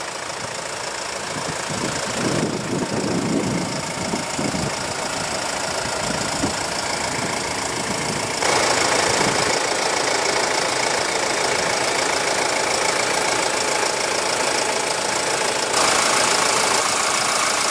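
A 2016 Mercedes E250 with a 2.1-liter twin-turbo four-cylinder diesel idles steadily, a continuous mid-loud engine drone with a slight knocking clatter that grows a little louder partway through, with no talking.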